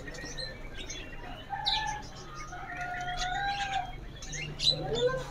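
Caged songbirds, including jecu and kacer magpie-robins, chirp and whistle at a bird market, with overlapping tweets and trills of varying pitch and a steady hum of market noise underneath.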